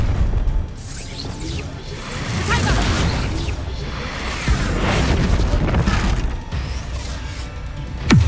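Bombarda and Confringo spell blasts in the video game Hogwarts Legacy, a run of heavy booming explosions with whooshes and crashing debris layered under spoken combat voices, dense and loud throughout.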